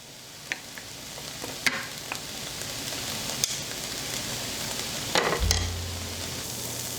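Vegetables sautéing in a pan for stuffed peppers with beef and cheese, giving a steady quiet sizzle with a few sharp clicks of stirring and a low rumble near the end.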